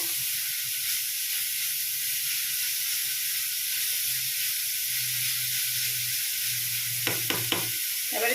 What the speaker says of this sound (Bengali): অল্প ভেজে নিচ্ছি তারপর কয়েকটা মশলা অ্যাড করবো